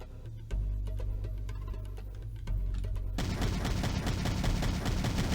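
Gunfire in the retro shooter Power Slave, with steady repeated shots. Quick ticking bursts over a low rumble give way to a denser, louder barrage near the end, and no voice is heard.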